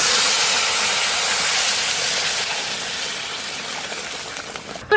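Water poured into a hot pot while cooking hilsa pulao bursts into a loud, close, continuous steaming hiss that slowly eases as it settles.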